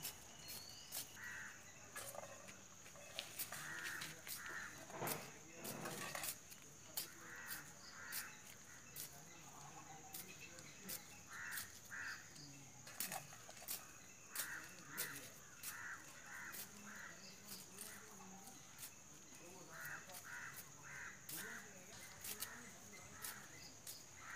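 Crows caw in repeated, scattered calls near a garden in Sri Lanka, over a constant high insect drone and faint background noise.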